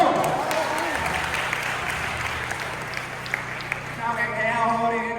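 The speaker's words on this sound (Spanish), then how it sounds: "Ahí, dame un aplauso." A crowd at a church conference claps and cheers steadily for several seconds, then the applause fades as a voice starts talking in Spanish over the tail end.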